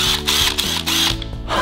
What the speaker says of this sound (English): This is a cordless drill. It gets power from its battery, see?